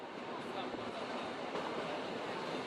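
A big green train rolls along rails past a little village, its steady broadband rumble and rushing noise continuous and fairly close, with no clear clacks standing out.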